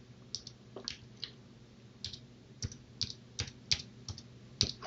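Keys tapped on a computer keyboard while entering an IP address: a dozen or so light, distinct clicks at an uneven pace, close and quiet, with no talking over them.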